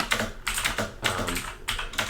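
Typing on a JOKERET mechanical gaming keyboard, a brisk close run of clacky keystrokes in uneven bursts with short gaps, no talk.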